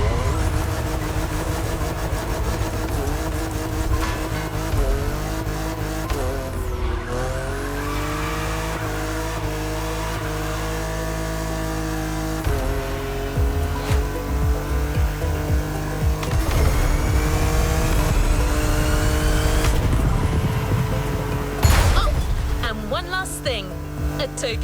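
Race cars duel on a winding mountain road in The Crew Motorfest, engines roaring steadily and shifting through gears with tire squeals and skids, while voices talk over the racing.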